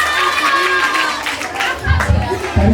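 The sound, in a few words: church audience clapping for a child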